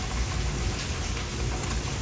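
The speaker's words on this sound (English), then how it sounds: "It's raining pretty good here in New Orleans." Rain falls steadily during a thunderstorm in New Orleans, a broad, continuous wash of rainfall mixed with a low rumble from nearby traffic or an engine.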